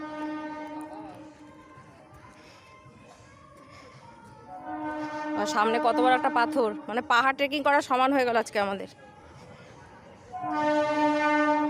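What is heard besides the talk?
train arriving at station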